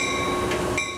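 The Heartland Flyer passenger train rolls along in a steady, loud rumble with rail hiss and high squealing tones, heard up close and on its own without any voices.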